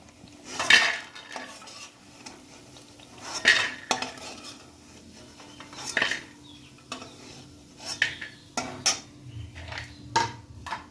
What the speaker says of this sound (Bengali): বড়িগুলো তুলে নেব।